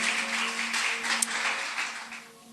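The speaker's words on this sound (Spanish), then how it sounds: "Dale un aplauso a la palabra del Señor" A church congregation applauds during a Spanish-language sermon, a sustained wash of clapping that swells and fades over a steady low hum, gradually thinning toward the end.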